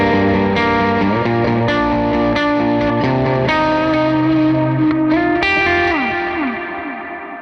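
Electric guitar through an SVDS Boost overdrive pedal by SoloDallas plays a sustained, crunchy riff with chords and bends, saturated and thick, fading toward the end.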